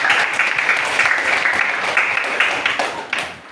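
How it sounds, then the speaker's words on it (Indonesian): Students in a junior high classroom clap together, a loud, dense burst of close applause that holds steady and then tapers off at the end. "terima kasih untuk kalian, tepuk tangan"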